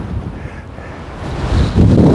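Strong wind buffets the microphone on a hilltop on the South Downs, a loud, low, gusting roar that swells toward the end, with no talking.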